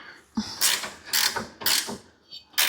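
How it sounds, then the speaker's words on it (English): A ratchet wrench tightening a U-bolt during an air bag installation on a 2015 GMC truck, heard as several short bursts of clicking ratchet strokes with brief pauses between them, close and fairly clear. "I'll finish her off with the old ratchet wrench"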